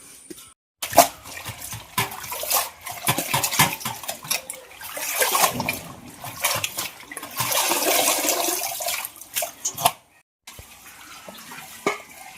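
Leaves of the pumpkin plant being washed in water for a Kerala stir-fry, with steady splashing and running-water sounds that rise and fall in bursts before briefly stopping near the end.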